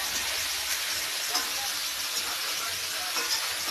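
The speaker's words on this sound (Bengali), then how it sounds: "এই যে মাছ ভাজা করছে" Fish frying in a pan in a home kitchen, a steady broadband sizzle with soft crackles running continuously at moderate level, faint low background sounds beneath.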